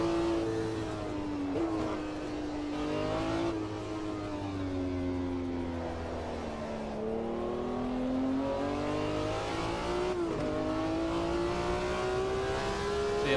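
A racing car engine in a video game revs steadily, its pitch rising and falling through gear changes. The drone is continuous and fairly loud, with a hint of tire squeal and no talk.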